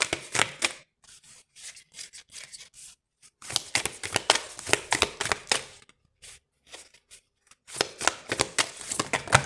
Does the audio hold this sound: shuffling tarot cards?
yes